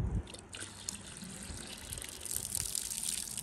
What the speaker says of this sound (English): I'm gonna put more water.